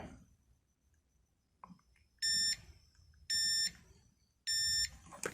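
An Aneng M118A multimeter's continuity buzzer gives three short, loud, high-pitched beeps at a fairly even pace, with soft handling noise in the quiet gaps between them.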